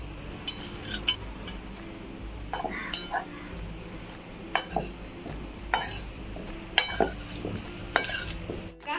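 Cooked kurdu bhaji wild greens are served onto a plate, with scattered clinks and scrapes of a utensil against cookware, fairly faint, over a low background hum.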